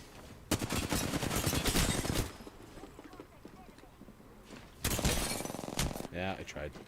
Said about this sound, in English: Yep, shooting at me.